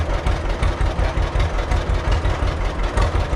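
A 1945 John Deere B tractor engine runs close and loud, its idle a rapid, uneven chugging beat that goes on without pause.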